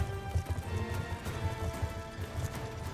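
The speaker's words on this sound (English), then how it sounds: "it sucks because you have to ride horses" Hooves clip-clop in a quick, steady galloping rhythm over a low, busy game soundscape, from a horse in the Black Ops 2 campaign.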